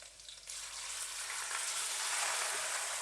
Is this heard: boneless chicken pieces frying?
yes